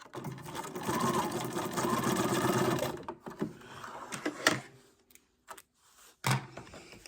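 A sewing machine stitches a wide zigzag on paper, whirring steadily for about three seconds, then stopping and starting in short bursts with small clicks between, close and fairly quiet.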